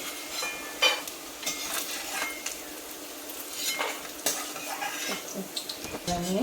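Roasted peanuts and cashews scooped out of a pan for poha, with repeated metal spoon scrapes and clinks against the pan over a faint sizzle, close and fairly quiet, no talking.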